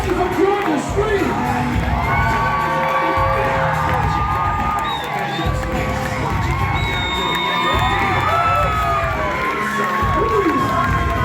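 A live-show audience screams and cheers loudly, a dense, sustained roar of many voices including children's shouts and whoops, with an amplified voice heard over the crowd.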